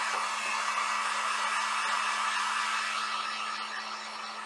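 A hair dryer blows a steady, loud, unbroken rush of air with a constant motor hum, drying a diamond art canvas of a unicorn, with no voices over it.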